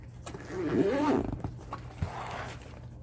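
A zipper is dragged closed along an overstuffed fabric writing utensil bag: one strained, rasping pull followed by a few shorter tugs and clicks, heard up close.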